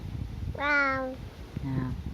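A voice imitates a cat's meow, one drawn-out high mew followed by a shorter, softer one, close and clear against a quiet background.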